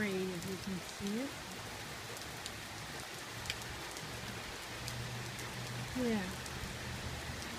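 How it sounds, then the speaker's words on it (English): Steady rain patters on a nearby awning close by, a dense hiss with scattered drops, while someone speaks briefly at the start and end. "The neighbors have got an awning and you can hear the rain."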